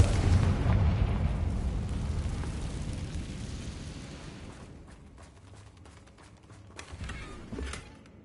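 A Confringo fire spell detonates in a Harry Potter video game, a loud booming blast at the start that rumbles and slowly fades, followed by fainter crackles.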